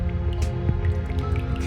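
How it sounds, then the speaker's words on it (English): Water drips onto uneven ground in the video game Reverse: 1999, with a few distinct, close drops and soft squishy splats over a low, constant ambient drone. "The dripping water has made the ground uneven."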